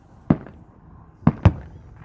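Fireworks bursting at Biggs Field on the Fourth of July, three sharp booming pops at a moderate distance, the last two close together, over a low background hum.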